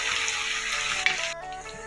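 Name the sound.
sautéing curry leaves, green chili, ginger and garlic in a pan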